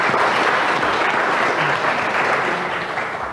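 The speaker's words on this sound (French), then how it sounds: "vous pouvez l'applaudir si vous voulez, bien sûr." Audience applause at a public round-table colloquium on nuclear testing in Tahiti, steady dense clapping from a crowd that holds loud throughout and eases slightly toward the end.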